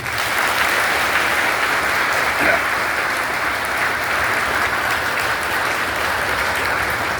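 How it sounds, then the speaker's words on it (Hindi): Steady applause from an audience of children in a hall, continuous and fairly loud throughout, with no other voices standing out. "तो बच्चों, अगर आपको वास्तव में मजा आया हो तो एक अंतिम बार ताली बजा दीजिए।"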